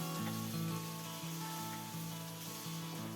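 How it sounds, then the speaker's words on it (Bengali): Potatoes tossed with turmeric fry in oil left over from frying fish, making a quiet, steady sizzle beneath soft background music. "আলুগুলোকে একটু লাল লাল করে ভেজে নেব"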